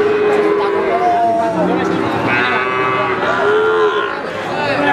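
Several cattle low loudly and close by at a crowded cattle market in Blora, with long drawn-out moos overlapping one another against the busy hubbub and chatter of traders.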